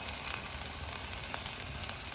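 Ginger garlic paste with thick curd frying over a low flame for a dhaba-style paneer curry, heard as a steady, soft, continuous sizzle with no talking.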